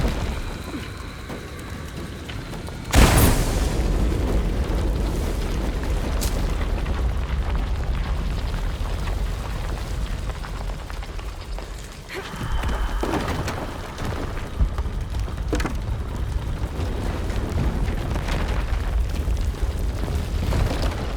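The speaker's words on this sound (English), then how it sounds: "Another explosion would raise the platform." A loud in-game explosion from Shadow of the Tomb Raider bursts out near the start with a sharp broadband hit, followed by a sustained rumbling, crackling roar; a second smaller blast lands midway through the continuing din.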